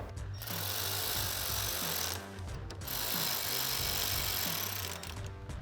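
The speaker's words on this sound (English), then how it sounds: "Thread in those 2 screws, and we'll take a T15 torque socket to tighten those down" Power driving of a T15 Torx socket into the two hood latch handle screws on a RedRock TCX HD front bumper for a 2019-2021 Chevrolet Silverado 1500, heard as two sustained, steady buzzing runs with a short pause between them.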